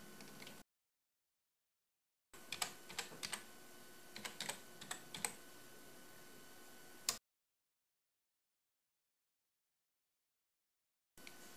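Password being typed on a computer keyboard, a quick burst of about a dozen close key clicks in one typing run between stretches of silence.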